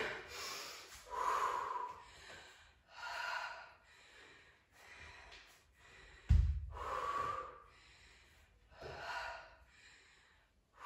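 Heavy rhythmic breathing during a HIIT leg and cardio workout: strong, regular inhale-exhale gasps and snorts repeating every second or so, close up, with one sharp low thump midway and no talk.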